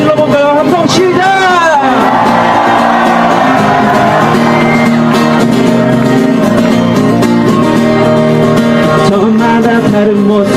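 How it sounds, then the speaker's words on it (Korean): A crowd at a candlelight protest rally near KT, against election interference by the intelligence service, shouts and cheers loudly and continuously over amplified singing, with voices rising in a whooping burst early on. "다시 한번 함성 질러볼까요? 함성 시작!"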